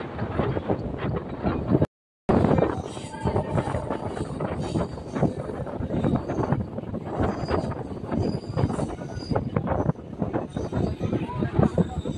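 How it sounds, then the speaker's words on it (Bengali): A Howrah–Panskura local train rolling along a curve near Ramrajatala, with a steady dense rumble and rattle of wheels and carriages throughout, close and continuous, and a brief dropout early on. "ট্রেনটা দেখুন কি সুন্দর বাঁক নিয়ে এগিয়ে চলেছে"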